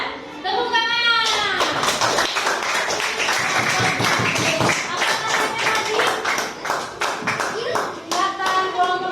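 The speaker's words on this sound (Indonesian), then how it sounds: "Tepuk tangan." Classroom applause from a group of students, a burst of rapid, loud clapping that carries through the whole stretch with children's voices chattering over it.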